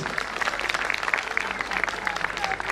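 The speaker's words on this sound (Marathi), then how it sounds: "टाळ्यांचा जोरदार गजर करूया आपण अशोक हांडे सरांसाठी" Audience at a 2024 mayor's award ceremony applauding, a steady dense wash of clapping that holds evenly from start to finish with faint voices beneath.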